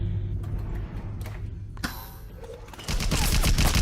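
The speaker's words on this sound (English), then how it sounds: "Joe seems to have activated this turret" Rapid bursts from an automated security turret in the video game BioShock, loud and sustained toward the end after a quieter stretch of sporadic shots and clanks, close by with no talk.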